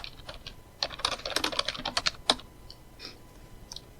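Typing on a computer keyboard during a programming session, a burst of quick, crisp key clicks with short pauses and no talking.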